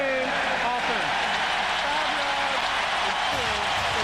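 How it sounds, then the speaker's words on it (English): A loud stadium crowd roars continuously at the 2003 Ohio State at Penn State football game, with a commentator talking over the din throughout. "we told you that it was deafening in here and that the crowd was on its feet"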